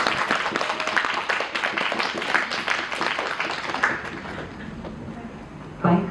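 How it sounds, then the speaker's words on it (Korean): Audience applause greets performers at the curtain call of the stage production 'PUPPET' evening show: dense, steady clapping fills the first four seconds, then thins to a quieter room murmur with a brief loud bump near the end. "네, 박수로 맞아주시면"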